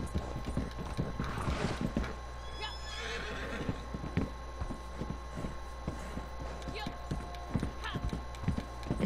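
Horse hooves clip-clop at a quick, regular pace in the video game Red Dead Redemption 2, with a low-energy horse trotting beside a railway under a constant background rumble while someone talks over it.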